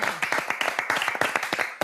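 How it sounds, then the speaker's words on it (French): A small group claps for a guest on a French talk show, quick uneven hand claps close to the microphone, brief and lively with a little talk underneath. "On a envie de vous applaudir."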